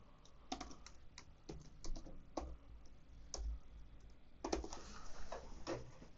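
Keys clatter on a computer keyboard while a Wi-Fi password is entered to set up an Asus TUF Gaming AX4200 router as a repeater, with irregular bursts of close, crisp clicks and short pauses between them.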